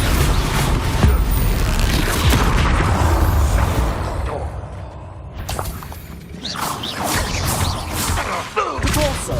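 Spell explosions from the Bombarda charm in the Hogwarts Legacy video game, a dense run of booming blasts and thuds with crackling debris over a steady game soundscape, loud and continuous with a brief lull mid-way.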